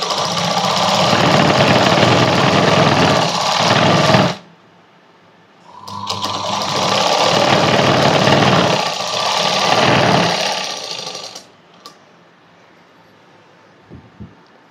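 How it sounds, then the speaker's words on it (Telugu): Sewing machine stitching lining cloth onto blouse fabric, running in two sustained bursts of loud, close whirring with a short pause between, then falling quiet with a few faint clicks. "ఇక్కడ నేను పైన ఒక స్టిచ్ అనేది వేస్తున్నాను చూడండి"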